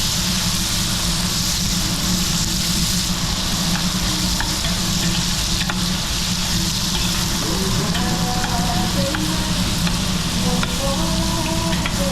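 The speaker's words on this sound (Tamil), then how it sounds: "வெங்காயம் நல்லா வதங்கட்டும்" Onions frying in sunflower oil in a pan for mutton dum biryani give a steady, close, loud sizzle with occasional stirring scrapes throughout, and no voices.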